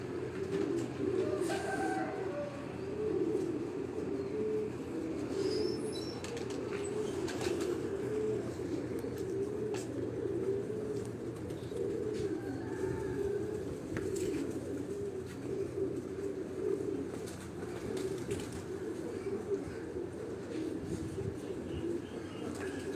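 Pigeons cooing on a rooftop in Rawat, soft repeated low coos over steady outdoor background noise, with occasional faint chirps from other birds and no clear talking.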